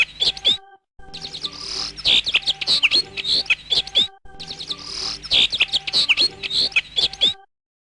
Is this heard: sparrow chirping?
yes